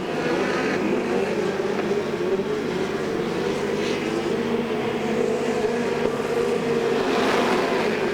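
Speedcars race at Archerfield Speedway at night, their engines a continuous, dense roar rising and falling from mid-distance as the pack circulates, with faint crowd noise under it.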